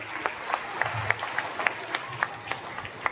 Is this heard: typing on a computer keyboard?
no